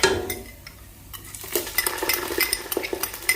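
Ginger and garlic stirred into lightly browned onions in a pot for pulao, with a spoon scraping and clinking against the pan over a gentle sizzle, the stirring growing busier after a brief lull.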